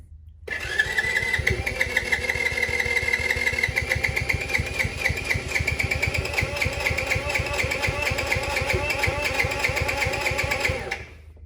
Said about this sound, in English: Put your hand on the brake and we're going to hit the start and see what it does.